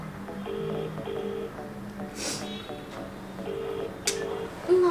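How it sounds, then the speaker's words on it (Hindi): A telephone keypad being dialed to call a grandmother, a series of distinct beeping tones in short evenly spaced pairs, clear and close, with a few clicks between them. "मैं नानी को फोन करूँ"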